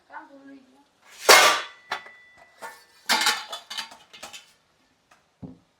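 Metal pots and utensils being set on a home kitchen stove, with one loud clang followed by a run of lighter clatters and knocks, and a voice briefly heard at the start.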